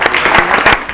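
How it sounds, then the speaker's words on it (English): Loud, close applause from a studio audience at a school quiz show, a brief dense burst of clapping lasting about a second. "Let's clap for Teja Telangana."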